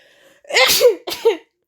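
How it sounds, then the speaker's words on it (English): A single close sneeze with a sharp intake, followed by a brief second burst. "Oh, I'm about to sneeze, y'all."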